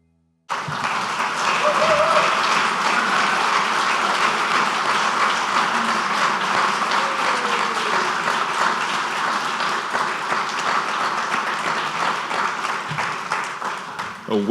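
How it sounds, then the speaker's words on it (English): Sustained audience applause at a golf hall of fame ceremony, dense and steady, filling the whole stretch after a brief silent start, with a voice faintly audible underneath. "A well-deserved round of applause, Ann."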